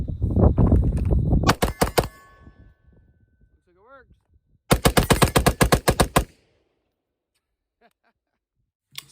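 An AR-15 rifle with orange magazines fires two loud rapid bursts outdoors, the first roughly eight shots and the second about a dozen, separated by a pause, with speech and background noise just before the opening burst.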